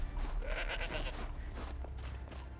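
A goat bleats in the video game Horizon Zero Dawn, a few wavering, moderately near calls over a low ambient game background.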